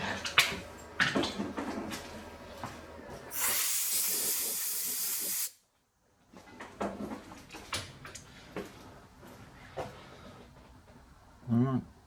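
Compressed air blasts onto a freshly threaded part on a Victor lathe in one loud, steady hiss lasting about two seconds, with shop clatter and handling noises before and after.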